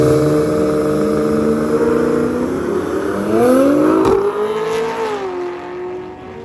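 A C6 Corvette and an R35 Nissan GT-R accelerate hard during a racing event, with loud, close engine roars rising in pitch through the gears and then easing as they pull away.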